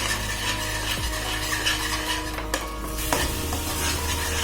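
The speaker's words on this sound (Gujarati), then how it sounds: "ઘી ઓગળી જાય ને ત્યાં સુધી આપણે એને ચલાવશું" Chikoo halwa being stirred in a kadhai with melting ghee, giving a steady close sizzle with soft scraping and stirring and a couple of sharper utensil knocks.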